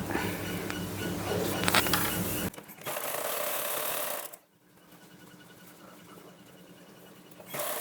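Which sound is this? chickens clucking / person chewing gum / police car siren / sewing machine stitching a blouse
sewing machine stitching a blouse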